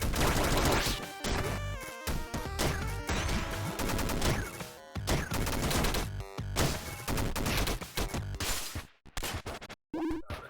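Rapid bursts of gunfire from gun boots in the video game Downwell, dense and loud, layered with chiptune-style crashes and effects that run almost continuously, with brief gaps near the end.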